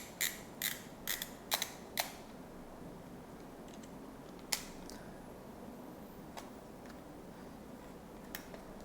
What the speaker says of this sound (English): you turn the film at once a little bit and close the film cover.